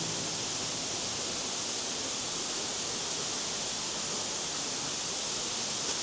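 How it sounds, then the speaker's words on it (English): South Falls waterfall on an Oregon hike roars as a loud, steady, broadband rush of falling water, close and unbroken with no voices. "Just like at South Falls, we can walk behind the waterfall."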